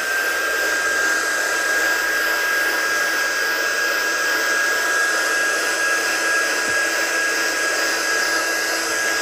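A heat dryer blows steadily up close on a crafting piece, a loud unbroken whooshing hum with a thin high whine running throughout, with no talking.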